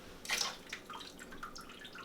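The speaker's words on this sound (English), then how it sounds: "So first thing we're going to do is get rid of that water." Water pours and drips off a tofu block onto a plate in a kitchen, with a short near splash followed by a few faint trickles and drops.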